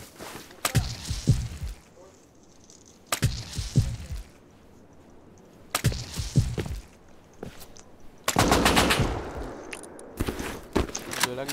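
Gunfire during a video game raid, arriving as several loud, harsh bursts of shots spaced a couple of seconds apart, with a longer volley near the end and voices over a steady background.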